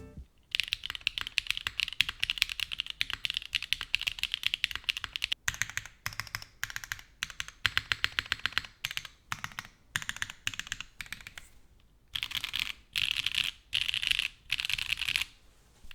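Rapid mechanical keystrokes clatter on a plateless HHKB Arc60 keyboard, steady typing with short pauses, close and crisp with no talking.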